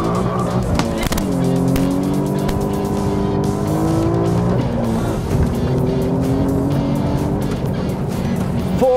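An Alfa Romeo Giulia in race mode accelerates hard from 0 to 100 km/h, its engine loud and close with rising revs and a distinct upshift, along with brief tire noise at launch.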